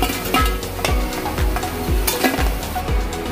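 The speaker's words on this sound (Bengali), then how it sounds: "বড়াগুলো ভেজে নিচ্ছি।" Lentil fritters (dal bora) frying in hot oil: a steady sizzle and bubble broken by a regular series of spoon or spatula scrapes and clinks against the pan, close and fairly loud.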